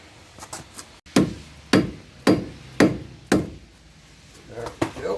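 Heavy dead blow hammer strikes on the front wheel hub of a 2005 Ford Escape / Mazda Tribute during bearing replacement: five loud, evenly spaced thuds roughly half a second apart, with lighter taps before and after.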